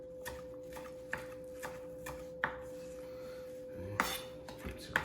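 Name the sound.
knife cutting basil into ribbons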